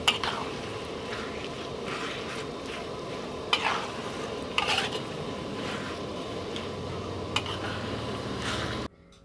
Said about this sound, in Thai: หมูสับก็เอาหมูมาผัดให้ย่อย ๆเนี่ยฮะ